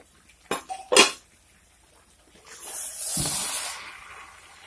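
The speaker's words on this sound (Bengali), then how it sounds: "এখন আমি ডাকনাটা সরিয়ে আবারও আমি নাড়িয়ে দেবো" A utensil clanks twice against a pot of mixed winter vegetables for niramish labra, and after a pause a loud hissing sizzle rises as the vegetables are stirred, then slowly fades.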